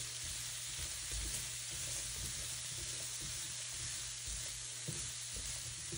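Carrot and two garlic cloves fry in olive oil in a pan, giving a steady, continuous sizzle with occasional stirring scrapes, close and even throughout with no talking.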